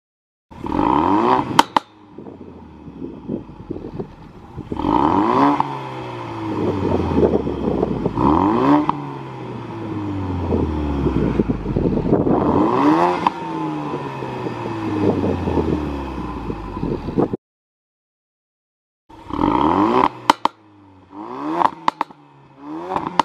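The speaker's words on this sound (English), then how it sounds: "give you guys a brief overview of what the exhaust sounds like in normal mode" A 2018 Ford Focus RS LE in Race Red with its stock exhaust in normal mode, revved repeatedly while parked: loud, close rising and falling engine roars with crackling off-throttle, a short silent pause, then more sharp blips.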